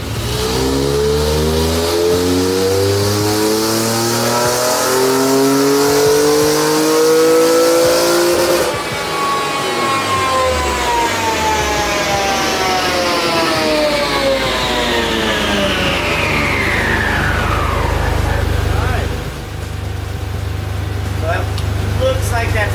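A Honda NSX engine revs up on a dyno, its pitch climbing steadily through the gears in long sweeping pulls before winding down, loud and close, with someone speaking over parts of it.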